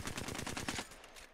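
Rapid automatic fire from an Alternator SMG fitted with a gold magazine in Apex Legends, a tight burst of about a dozen evenly spaced shots lasting under a second, then a short fading tail.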